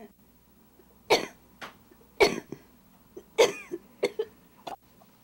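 Repeated coughing from a hospitalized woman whose cough has grown frequent and chest pain worse, several harsh bursts spaced irregularly in a quiet hospital room.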